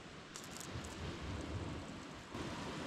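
Boiled pasta water pours out in a steady, rushing stream during an outdoor camp meal on a UK bikepacking trip, a continuous hiss and splash throughout.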